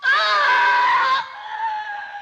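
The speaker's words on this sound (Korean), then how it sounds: "아내의 비명에 달려가는 오가미" A woman gives a piercing, sustained scream that is loud and close, then drops into a quieter, trailing wail, with no speech, heard in a samurai drama scene.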